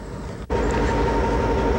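A freight train rumbles steadily past on the railroad near the Richland curve, loud and continuous, with a brief dip before the roar fills in.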